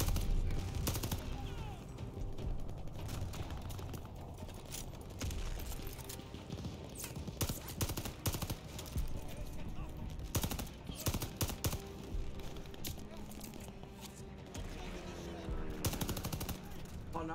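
Call of Duty Vanguard combat fills the scene with frequent gunshots and bursts of automatic fire over a constant wash of battle noise and music, with speech mixed in throughout.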